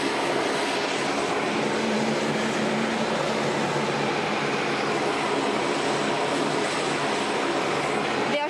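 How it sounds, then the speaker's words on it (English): Australian Air Force plane engines running at the APEC terminal departure, a loud, continuous roar close by, steady throughout with no pauses. "The Australian Air Force plane has turned on its engines"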